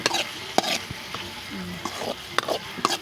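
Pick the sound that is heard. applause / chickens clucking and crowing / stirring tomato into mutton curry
stirring tomato into mutton curry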